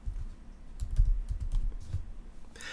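Someone types on a computer keyboard while filling in an A/V script template, a quiet, close run of irregular key taps with a few louder strokes and no talk.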